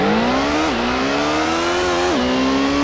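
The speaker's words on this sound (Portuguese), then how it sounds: "Barulho bom do motor Mitsubishi." A loud, continuous engine drone from a Mitsubishi GTO LM in Gran Turismo on PS1 with manual gears, climbing in pitch, dipping briefly twice as gears shift, then climbing again.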